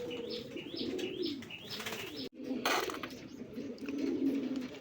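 Rasgolla breed pigeons coo in a repeated rising, rolling rhythm up close, interrupted by a sudden flurry of wing flapping before the soft cooing resumes.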